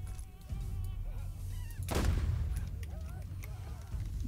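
Gunfire in the video game Borderlands: a single loud, booming shot near the middle, preceded and followed by quieter game noise and faint effects, with no talk over it.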